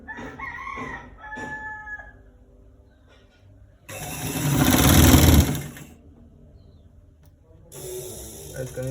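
A sewing machine stitches a short sleeve in loud, steady bursts, the longest near the middle and another at the end, with quieter pauses between. A rooster crows faintly in the background at the start.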